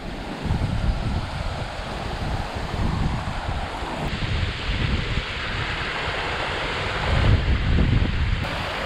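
Rushing river water in a Lake District valley near Ennerdale, a steady broad wash close by while crossing on foot, with wind buffeting the microphone throughout.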